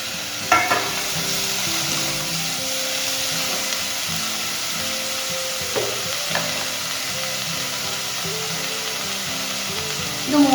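Broccoli and beans stir-frying in a hot pan, a steady hiss and sizzle throughout, with a few light clinks of a spatula scraping the pan near the start, middle and end.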